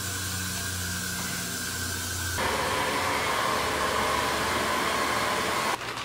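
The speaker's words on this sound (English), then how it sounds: "Now we go back in with the hairspray and just smooth everything" Hairspray is misted over a styled drag queen wig ponytail, giving a steady close hiss that shifts to a brighter, louder spray partway through and then cuts off near the end.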